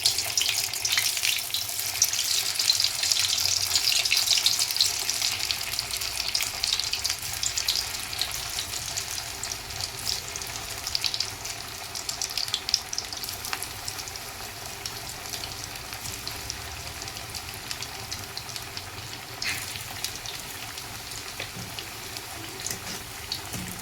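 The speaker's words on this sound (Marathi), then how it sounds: "वड्यांना आपण पलटून दोन्हीकडनं छान डीप फ्राय करून घेतोय" Kothimbir vadi, coriander fritters, deep fry in hot oil and are turned to brown both sides, producing a continuous, even sizzle that holds steady and close throughout.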